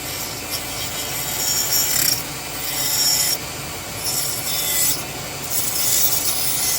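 Old, roughly 20-year-old Dremel rotary tool with a faulty speed control grinding on a plastic 1986 Chevrolet Monte Carlo SS pro street model car body, a steady close rasping drone with surges and brief dips, alone.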